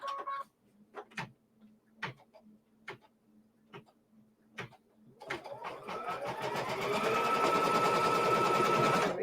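A sewing machine stitches down a piece of a fabric quilt block, starting with several separate sharp clicks and taps before the motor runs up into a steady, loud whirring hum that continues to the end.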